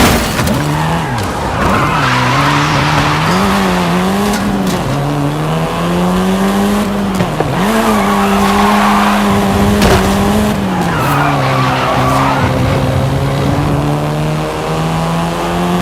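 A Volkswagen Golf R races in Forza Horizon 5, its engine droning loud and continuous while tires squeal and skid through repeated slides, the pitch dipping and rising with each turn.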